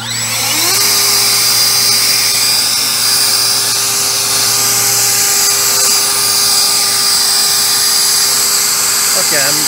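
An EGO 56V 575 CFM battery leaf blower runs at full power, giving a steady high whirring roar that holds constant for several seconds, close and loud, with a brief pitch sweep near the start.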